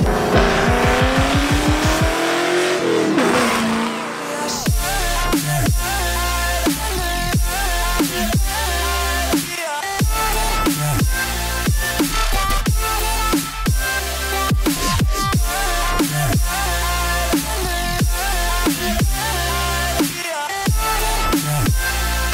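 A 1999-2004 New Edge Ford Mustang with mufflers cut off, long tube headers and a cat delete roars loud and close, its revs sweeping up early, then breaking into repeated sharp blips and crackling bursts.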